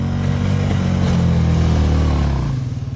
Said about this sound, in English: watching a 14-year-old boy drive the quad and plow the snow